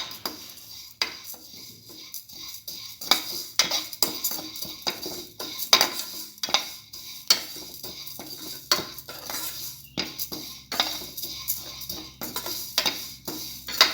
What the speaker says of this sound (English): salt till the pasta is nicely fried